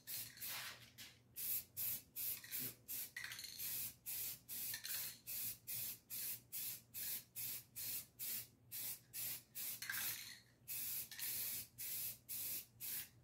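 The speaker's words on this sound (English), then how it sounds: "Plenty of spray paint left in here too." Repeated short bursts of spray paint on an electric guitar, a steady rhythmic hiss starting and stopping roughly every half second, close and clear.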